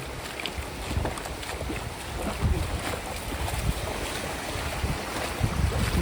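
A small-engined fishing boat comes in to the shore after a pomfret catch, its steady low rumble mixed with washing waves and gusty wind noise on the microphone; no one speaks.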